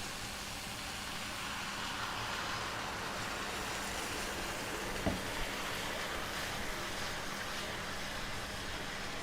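Chicken broth poured into a hot pan of rice and frozen cauliflower for a chicken curry pilaf sizzles as a steady, faint, broadband hiss throughout, with a brief soft clink partway through.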